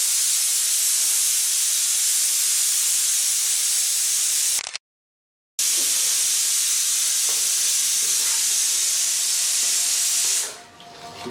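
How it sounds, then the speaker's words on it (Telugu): A pressure cooker whistle releases a loud, steady hiss of steam close by, cutting off abruptly for about a second and then resuming before fading near the end. "ఆ విజిల్ అయిపోయేదాకా వెయిట్ చేద్దాం"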